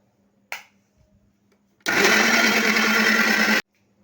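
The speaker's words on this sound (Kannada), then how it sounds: "ಇದನ್ನು ನೈಸಾಗಿ ರುಬ್ಕೊಳ್ಳೋಣ ಈಗ" Soaked rice with a little water is ground into batter for paddu in an electric grinder, which runs loud and steady for under two seconds after a single sharp click, with near silence before and after.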